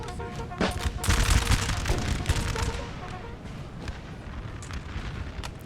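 Heavy booming Napoleonic cannon fire in the video game Napoleon: Total War rolls through the Battle of Vitoria, several deep blasts clustered early then fading into a rumbling, crackling background.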